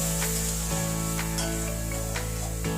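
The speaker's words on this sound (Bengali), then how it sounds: "কুচিয়ে রাখা পেঁয়াজটা এবার একটু ভেজে নেব।" Chopped onion fries in oil in a wok, a constant close sizzle with a low steady hum underneath and a few quick stirring scrapes spaced through it.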